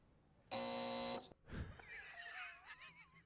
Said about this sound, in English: Quick buzzer cost you 5 on that one.